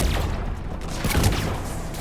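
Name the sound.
gunfire in the video game Mass Effect 3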